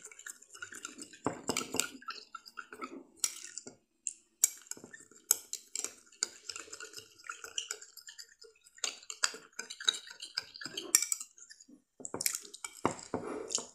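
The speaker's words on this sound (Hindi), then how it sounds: "अब हम इसमें ऐड करेंगे one table spoon potato juice इसे अच्छी तरह से मिक्स कर लेंगे" Coffee and potato juice being mixed in a bowl for a skin remedy: close, irregular clicks, taps and scraping of a spoon against the bowl, with brief pauses, and no talking.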